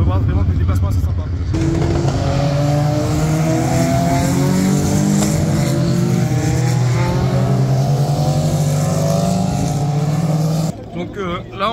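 GT and hypercar race cars sweep through a downhill curve at a circuit, engines rising and falling in pitch as they pass close and loud, one after another, with a voice talking over the roar.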